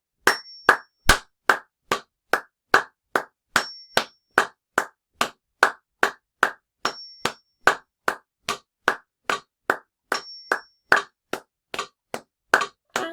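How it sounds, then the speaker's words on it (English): A group claps a samba rhythm in unison during a samba class, sharp, evenly spaced claps in a steady repeating pattern, close and loud, with no talking. "now let's just try just clapping it after 4."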